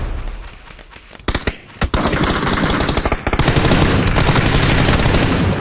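PUBG gunfire: loud bursts of rapid automatic shots, starting as scattered cracks and building into a sustained, dense volley of firing that carries to the end.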